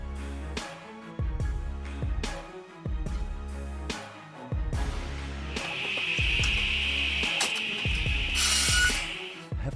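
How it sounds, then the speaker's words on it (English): A homemade firewood processor works through wood with a repeating cycle of sharp thuds and mechanical clunks roughly every second, later joined by a steady high whine and a brief hiss, close and fairly loud. "this is probably the safest homemade firewood processor I've ever seen"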